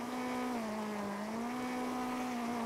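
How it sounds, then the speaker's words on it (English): A car's clutch burning out in the video game GTA V, heard as a loud, steady, strained engine drone that holds one pitch with a slight wavering throughout, no voices over it. "The clutches. We're burning the clutch out."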